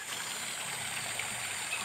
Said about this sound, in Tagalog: Buhay na buhay yung bukal.